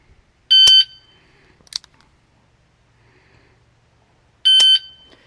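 Two loud electronic shot timer beeps ring out during dry fire trigger practice, the first early and the second about four seconds later, each a short, bright tone standing alone, with a faint click between them.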